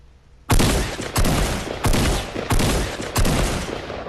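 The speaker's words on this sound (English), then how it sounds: "this is the only shotgun that you can hold down the trigger and it will continuously fire until it's out of all 8 shots" Blue tactical shotgun in Fortnite fires five loud, evenly spaced blasts in rapid succession, each one a sharp crack with a brief ringing tail, the trigger held down.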